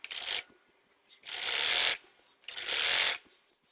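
A sewing machine runs along the folded hem of a girl's umbrella-cut frock in three loud, close bursts of quick mechanical whirring, with short quiet gaps between them.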